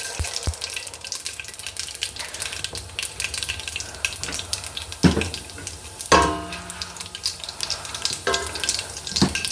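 Mustard seeds spluttering and popping in hot oil for a one-pot rice dish, a continuous close sizzle with irregular crackles and a few sharper pops and scrapes.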